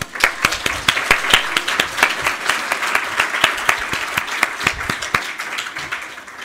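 An eTwinning workshop audience in a hall in Kraków applauds itself: a loud, sustained round of clapping with several distinct sharp claps standing out in the foreground, continuing steadily for several seconds before tapering.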